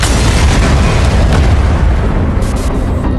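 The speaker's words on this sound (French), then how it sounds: "Des explosions." Dense, loud, continuous booming rumble of explosions, with no pauses, filling the whole moment.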